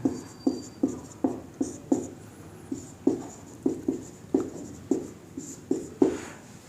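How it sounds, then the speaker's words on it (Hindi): Writing on a board makes a steady run of short, crisp strokes, about two per second, close and fairly quiet, with no voices. "ब्रैकेट में यहाँ लिख देते हैं।"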